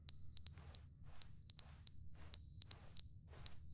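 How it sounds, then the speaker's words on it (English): Fire alarm in The Stanley Parable game, a loud high electronic beep sounding in repeated pairs of short tones with brief gaps, steady and insistent. "Fire alarm's going off"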